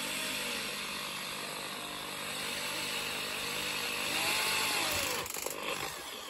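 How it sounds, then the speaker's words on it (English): A power drill grinding steadily through a soft skateboard truck bushing, one continuous close, loud whirring drone that shifts slightly in pitch as pressure is applied, ending with a brief rattling catch. "So I will drill the hole with this tool."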